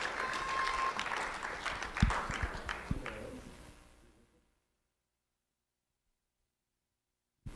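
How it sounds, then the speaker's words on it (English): An audience applauds two honoured elementary students at a school recognition event, with moderate clapping and a few sharper claps before it fades to silence. "Let's have a round of applause for Lisbeth and Cameron."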